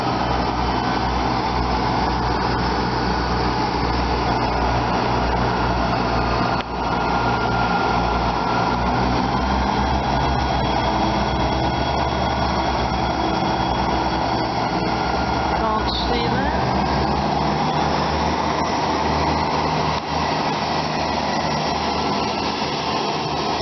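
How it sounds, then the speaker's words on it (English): Two paired South Western Railway Class 159 turbo diesel units pulling away, a steady loud engine drone with rumbling low end that holds throughout, plus a brief squeal near the end. "It's formed of a double pairing of Southwestern turbos, or 159s."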